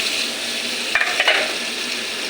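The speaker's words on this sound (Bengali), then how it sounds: "সবজিগুলো ঢেলে দেবো" A steady oily sizzle fills the clip as vegetables fry in a pan with cooked-down spices, broken by a couple of quick scraping stirs near the middle.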